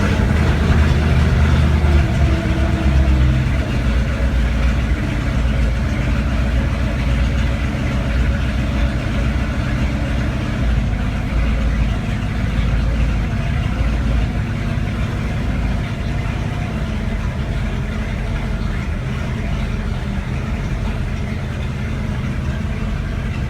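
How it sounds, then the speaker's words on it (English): A collector car engine with no idle control valve idles very low and lumpy, a steady loud low rumble that sags slightly over time, heard close with no talk. "Doesn't have an idle control valve, so you can get it to idle pretty low"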